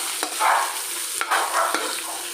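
Salt being stirred into a sizzling pan of fish, a spatula scraping in repeated strokes over constant frying hiss, no talking.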